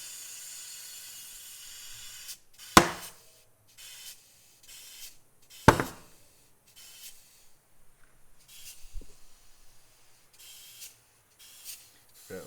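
Compressed air hisses in repeated short bursts through a hose adapter while a tubeless mountain bike tire on a Stan's rim is inflated, with two sharp pops as the bead seats and quiet pauses between blasts.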